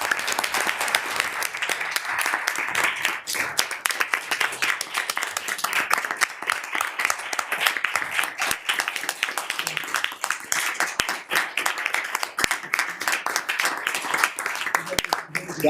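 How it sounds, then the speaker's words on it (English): Members of a university board finance and operations committee meeting give a round of applause, sustained crisp clapping from a modest room that carries on for the whole stretch, with voices mixed in beneath it. "I think this man deserves a round of applause."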